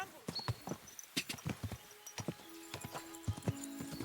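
Horse hooves clip-clop in irregular clusters of sharp knocks, moderately close, in the medieval open-world game Kingdom Come Deliverance 2, with a faint whinny and scattered game voices mixed in.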